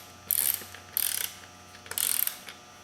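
A ratchet clicks in three quick bursts, snugging beadlock rim bolts in a star pattern on a 2003 Polaris Ranger 6x6, each burst a close, rapid run of pawl clicks with short pauses between.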